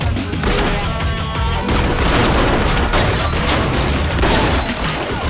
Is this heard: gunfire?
yes